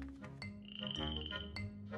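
A cartoon pet frog croaks in a few close, loud, throaty bursts with a longer drawn-out croak in the middle, and no talking over it.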